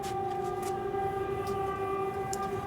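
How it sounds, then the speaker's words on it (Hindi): Passing train near a classroom, a steady loud tonal drone like a horn or wheel whine that holds throughout with brief hiss bursts over it and no speech. "ट्रेन की आवाज आ रही है तुमको?"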